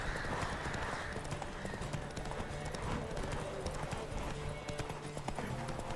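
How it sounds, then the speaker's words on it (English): Horse hooves clip-clop steadily at a brisk gallop in The Witcher 3, loud and close, with a faint whinny and brief talk mixed in. "Roach is much faster than this piece of shit horse."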